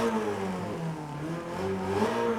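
A 1967 Renault 8 Gordini engine in the Forza Horizon 5 video game, revving steadily with rising and falling pitch, loud and close, with no talk over it.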